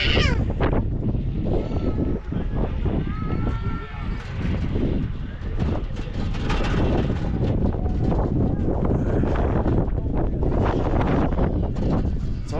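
Strong gusty wind buffets the microphone on the Pikes Peak summit, a loud continuous roar close up with muffled voices partly buried beneath it.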